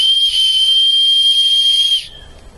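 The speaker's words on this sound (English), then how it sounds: "It also has a whistle here" A loud, piercing whistle built into a Maxpedition Sitka Gearslinger bag, blown in one steady high tone for about two seconds, then cutting off abruptly.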